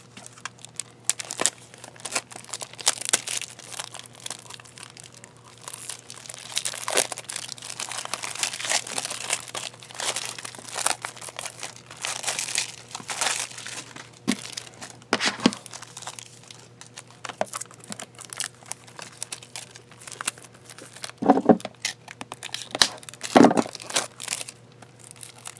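Crinkling and crackling plastic as a glued Shovel Knight game case and its wrapping are pried open, a long stretch of irregular rustles with a few sharper snaps and tearing bursts near the end.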